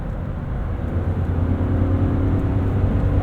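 A 2012 Lexus GX 460 truck engine droning steadily under acceleration, a continuous low rumble with a rising hum heard from inside the cabin, no talk.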